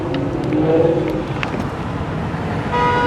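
A car drives in dense traffic across the George Washington Bridge, with a steady loud road rumble and engine drone inside the cabin, some faint tones and a brief horn-like toot, no talking.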